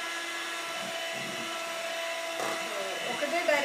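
An electric beater whirs steadily, mixing maida flour into egg batter for a strawberry cake, a continuous high mechanical drone that shifts slightly as the batter thickens.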